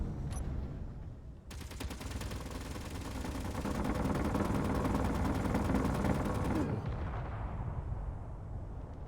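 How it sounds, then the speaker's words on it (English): Video game guns fire nonstop because of a server bug: a rapid, evenly spaced automatic burst pattern runs continuously for several seconds over a rumbling background, then stops, leaving a quieter hum. "there's a server related bug with the guns and constantly shooting"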